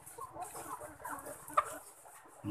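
Ready-to-lay chickens cluck softly in a poultry pen, a low continuous murmur of fowl sounds with one brief sharper call near the middle and a louder bump at the end.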